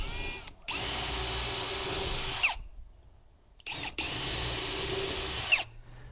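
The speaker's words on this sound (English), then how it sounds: "Okay, so we got that pre-drilled, and that's just to keep those ends from splitting." A power drill pre-drills the end of a wooden deck board for screws, running in two steady whirring bursts of a couple of seconds each, separated by a brief quiet pause.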